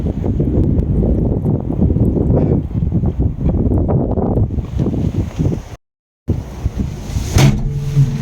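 Strong wind roars steadily through a Canadian snowstorm, a dense broadband rush with gusty swells, a brief dropout near the end, then the blustery noise resumes.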